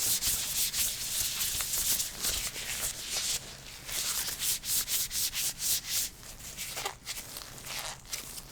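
Close, soft rubbing and squeaking of rubber gloves in a dentist-themed setting goes on in repeated strokes, with brief pauses between bursts of friction.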